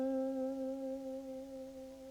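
A held guitar note wavers with a quicker vibrato, sustaining clearly for about two seconds and slowly fading, played alone.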